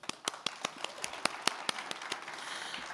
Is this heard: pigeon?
no